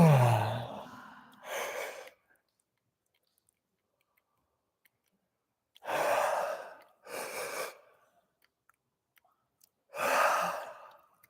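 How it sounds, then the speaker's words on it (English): A big, slow yawn with mouth opening and closing: breathy, drawn-out exhalations come in several separate bursts with near silence between them, close and soft, with no speech. "turning it into a big yawn."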